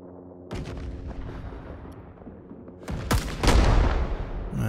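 Gunfire in the video game Rising Storm 2 on the Da Lat map, with a sniper firing an M1D rifle: sharp, booming shots bursting out near the start and again toward the end, loud and close over a low rumbling battlefield.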